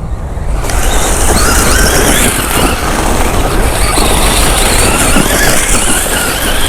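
A GTFans M606 1/12-scale RC monster truck runs through water in a long wheelie, its electric motor whining loudly and steadily with splashing, close and continuous for several seconds.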